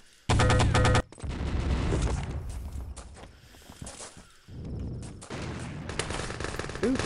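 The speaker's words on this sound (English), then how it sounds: "Who's shooting at me?" A fast, loud machine-gun burst from an old-school shooter opens the moment, followed by scattered nearer and farther shots, clanks and footsteps through the rest of the battle.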